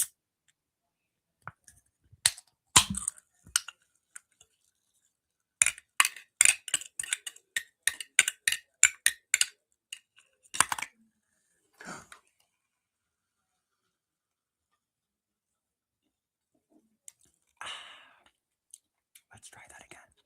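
Crunching and clicking bites of Hawaiian shaved ice, eaten close to the microphone in bursts of sharp crisp crackles with pauses between, alongside soft whispering.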